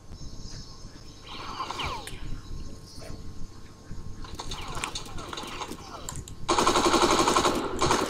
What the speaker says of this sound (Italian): Mi ha sparato alle spalle qualcuno, però.